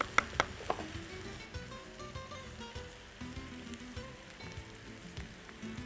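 Mushrooms just added to a pan of three-quarters-sautéed onions sizzle and fry steadily, with a few sharp clatters at the start, close and moderately loud, with no talking.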